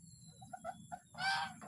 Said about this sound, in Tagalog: gansa ko na puti.